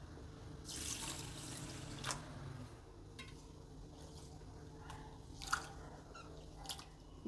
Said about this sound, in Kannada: ಅಕ್ಕಿನ ನೆನೆ ಹಾಕಬೇಕು ಒಂದೆರಡು ಸಲ ತೊಳೆದ್ಬಿಟ್ಟು ನೆನೆ ಹಾಕ್ತೀನಿ